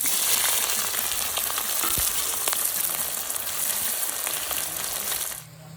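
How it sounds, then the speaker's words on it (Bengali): Sliced onions fry in hot oil in a kadai with cumin, dried red chilli and bay leaf, giving a steady close sizzle and crackle that drops off abruptly near the end. "পেঁয়াজটা ভাজা হয়ে গেছে লাল হয়ে গেছে"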